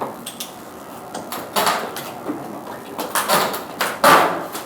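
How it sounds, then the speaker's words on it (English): An old door at historic Fort Mifflin is forced open, with a series of scraping, rattling and banging bursts of rising loudness, close by. "it seems like you don't want me to open this door"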